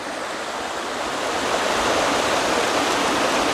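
Mountain stream water at a shrine rushes and splashes in a steady, dense roar, loud and close, with no pauses or voices.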